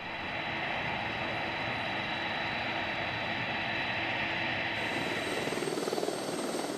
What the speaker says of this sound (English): For shorter distances that still require air travel, the Commander-in-Chief has the option to take a helicopter.